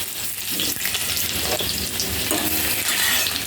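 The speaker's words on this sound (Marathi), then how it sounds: "कढई आपली तापलेली आहे, तेल तापलेलं आहे, लसूण टाकलं मी तेलात" Garlic frying in hot oil in a kadai, a dense close sizzle with crackling bursts and stirring scrapes, fairly loud and unbroken, no voices.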